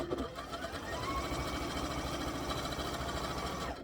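A sewing machine runs steadily at speed, stitching a quilted Christmas table topper, its fast, even mechanical whir close and loud without pause for nearly four seconds.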